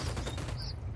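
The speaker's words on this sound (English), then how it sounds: "I'm opening fire" Dense video-game gunfire in Ghost Recon Wildlands, a loud continuous burst of rapid shots filling the short moment with no talk over it.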